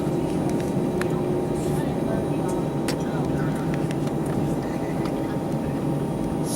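Airliner cabin on the runway before takeoff at Charlotte airport, a steady low engine rumble and broadband hiss with occasional faint clicks, continuous and moderately quiet throughout.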